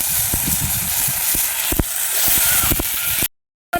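Tomato added to hot oil in a wok crackles and sizzles steadily, with scattered sharp clicks and spatters throughout, close and fairly loud, ending in a brief silence.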